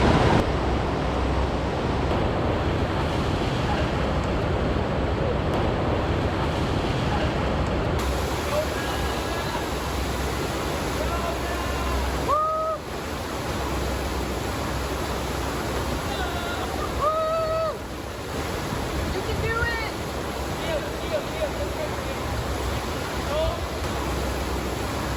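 Rushing water of a FlowRider artificial surf wave inside a Kuala Lumpur shopping mall roars as a loud, constant wash, with brief squeaks and dips partway through and occasional voices in the background.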